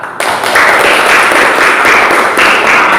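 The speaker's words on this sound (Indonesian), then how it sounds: "Iya, tepuk tangan untuk kita" Students in a classroom clap together for themselves. The clapping starts suddenly and carries on loud and close for about three seconds in a brisk, uneven patter.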